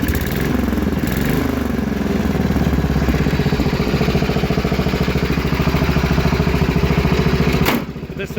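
A 1969 Suburban SS12 garden tractor with a diesel engine, fitted with a carburetor from a 10 horsepower engine, runs steadily up close with a loud, even rapid chug that cuts off abruptly near the end.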